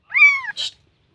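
A cat in a village home gives a single short, clear meow with a brief trailing breathy note, close and alone in otherwise quiet surroundings.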